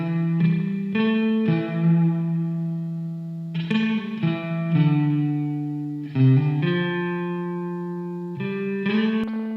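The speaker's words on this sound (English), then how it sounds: "It has 38 spring reverb impulses inside, and it includes several great presets." An electric guitar plays a slow melodic phrase of sustained notes through the Devil Spring Reverb plugin, its spring reverb leaving a shimmering tail after each note, with no voices.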